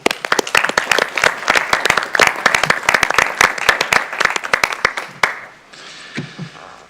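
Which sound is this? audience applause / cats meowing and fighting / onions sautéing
audience applause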